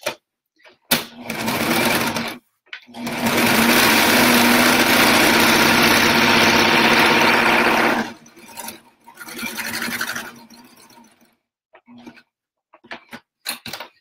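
A sewing machine runs a straight stitch across a pillow cover in loud, steady bursts: a short run, then one long continuous stretch of several seconds, then brief stops and starts with quiet gaps between.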